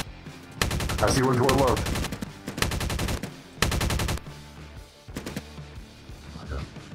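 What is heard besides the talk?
gunfire in video game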